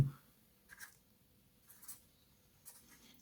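Numbers being written by hand on paper during a calculation, heard as three short, faint scratchy bursts of pen or pencil strokes set apart by quiet pauses.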